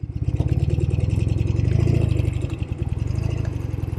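A 1972 Norton 750 Commando motorcycle runs in first gear with a pulsing, throbbing exhaust beat, loud and close, swelling slightly and then easing.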